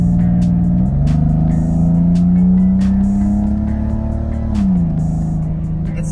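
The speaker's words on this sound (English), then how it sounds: "I'm gonna let you guys listen to the car on acceleration." A Nissan 350Z with a straight-pipe exhaust accelerates close by while misfiring: a loud droning engine note climbs in pitch, holds, then drops back, with irregular sharp pops and crackles punctuating it.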